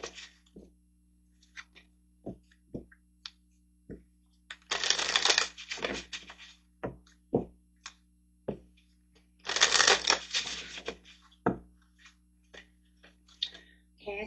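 Tarot-style portal cards shuffled for a reading: repeated soft riffling bursts and crisp card taps and slaps, two longer shuffle runs among scattered clicks, close and fairly quiet with no talking.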